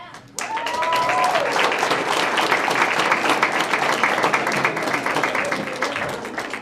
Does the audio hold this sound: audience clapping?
yes